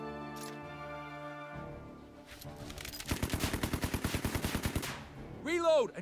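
Sustained burst of machine gun fire in the World War 2 strategy game Headquarters, a rapid even rattle lasting about two seconds after a stretch of droning music and game sounds, with a voice briefly rising at the end.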